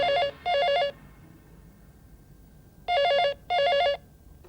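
A telephone rings in two double bursts of a warbling electronic bell, loud and close, with a quiet pause between the pairs.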